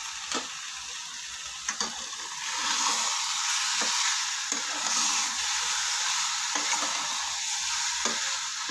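Chicken coated in ground masala is stirred in a pan for a spicy chicken rassa, with a steady sizzle and a series of scraping, clinking spoon strokes at a close, even rhythm.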